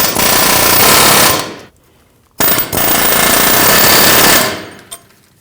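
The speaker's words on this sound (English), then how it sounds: "I'm going to continue to hammer the bolts from the back side." Rapid pneumatic-style hammering on bolts to free a rear wheel hub on a 2013-2019 Ford Explorer Interceptor comes in two loud sustained bursts separated by a short pause, with a brief tap at the end.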